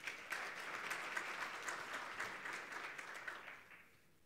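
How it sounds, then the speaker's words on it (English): Audience applause at a national green hydrogen conference, steady and fairly distant, holding evenly before fading away near the end. "Another round of applause for him, please."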